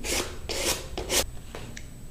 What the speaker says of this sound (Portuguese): é só ir passando a lixa aqui